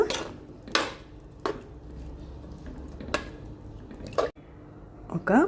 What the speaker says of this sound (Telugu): ఇప్పుడు దీన్ని బాగా మిక్స్ చేసుకుని